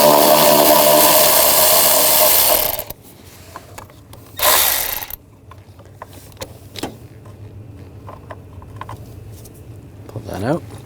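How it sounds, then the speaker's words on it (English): A ratchet with a 10mm socket loosens a bolt near the horn during radiator replacement on a 2008-2012 Jeep Liberty 3.7L V6; loud, close ratcheting clicks open the clip, followed by quieter clicks and handling noises. "Using a 10mm socket,"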